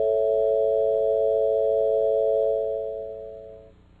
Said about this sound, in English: When we put these mistuned tempered intervals together in a major chord, you can hear the rough and restless quality that Helmholtz referred to